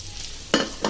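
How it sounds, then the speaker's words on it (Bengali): Chopped onions and green chilies hit hot oil in a wok, giving two short soft sizzling bursts against a quiet kitchen background. "এবার কেটে রাখা পেঁয়াজ আর কাঁচামরিচ দিয়ে দিচ্ছি"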